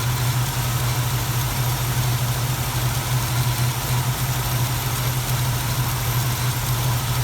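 A Duster car engine idles at 800 RPM, giving a steady low rumble with even vibration throughout and no voices.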